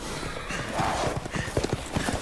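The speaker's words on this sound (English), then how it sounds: "Horseback, horse-mounted." Horse hooves clip-clop in Resident Evil Village as mounted riders approach, a quickening run of dull close thuds over a noisy game background, with a faint whinny-like tone early on.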